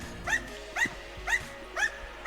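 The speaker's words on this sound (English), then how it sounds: "What are you barking about?" A dog in the video game Enter the Gungeon gives five short, evenly spaced yips or barks, each a quick rising note, moderately loud over a quiet game background with no talking.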